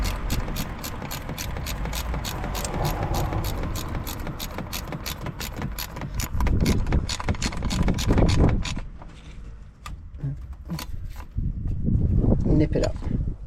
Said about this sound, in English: And then get your ratchet.